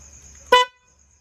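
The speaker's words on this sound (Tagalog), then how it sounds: "Ito yung busina natin ha" A car horn wired to a domino switch, tested with a single short, loud honk that cuts off abruptly, over quiet background hum.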